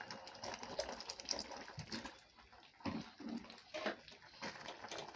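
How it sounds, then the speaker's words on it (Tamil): Water is poured into a pot of bitter gourd sambar, giving a steady, close splashing gush that rises and falls for several seconds with no talk. "இது கொஞ்சம் தண்ணி ஊற்றிக்கலாங்க"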